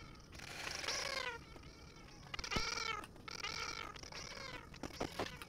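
A kitten meows repeatedly up close, with several drawn-out high mewing cries separated by brief pauses, and a few soft bumps and handling noises between them.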